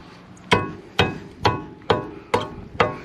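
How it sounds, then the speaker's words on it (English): A hammer hits a part on a 1984 Mercedes 190E with a locked-up wheel six times, in sharp, close metallic blows spaced about half a second apart, with no talk. "Let me see that hammer. I think I can knock it off there."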